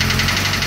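A 1982 Triumph TR7 engine running with a loud, close mechanical rattle and knock, heard briefly and continuously with no voices over it.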